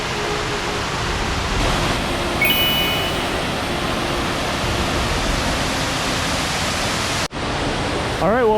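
Eerie Falls, a 47-foot waterfall on Ganoga Glen in Ricketts Glen, makes a steady, dense rush of falling water that fills the whole stretch evenly, with a voice faintly beneath it near the end.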